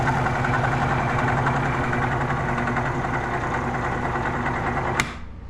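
A Shop Fox W1870 scroll saw runs with a steady buzzing, rhythmic mechanical hum, then cuts off abruptly near the end, leaving a quiet tail.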